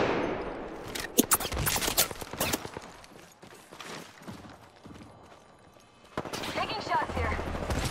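Gunfire in a shooter game: rapid bursts and single sharp shots crack close and loud, then thin out into scattered distant pops before another flurry, with a voice speaking in between.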